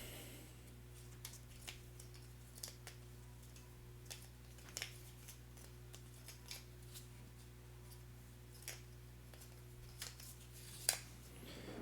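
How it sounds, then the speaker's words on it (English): Cardboard board game tiles being shuffled by hand on a table, giving faint, scattered clicks and taps spread across a quiet background with a low steady hum. "so let's shuffle these"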